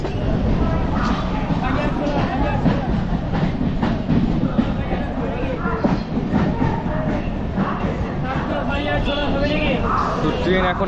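A Bongaon local train pulls into Dum Dum Cantonment station, its wheels clattering steadily and loudly over the rails with a continuous rumble, while passenger chatter murmurs underneath.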